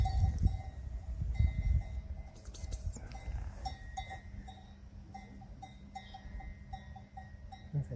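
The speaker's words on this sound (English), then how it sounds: "There's donkeys with like bells around their necks all over the place." Bells hung around the necks of donkeys clank and tinkle intermittently outdoors at a campsite in Urbasa, fairly faint and scattered, with rustling handling noise and low background rumble.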